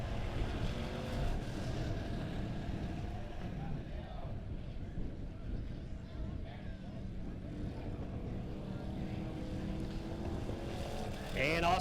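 Midwest modified race cars roar around the oval at Springfield Raceway, a continuous engine drone with passing swells and wind buffeting, while an announcer talks over the noise throughout.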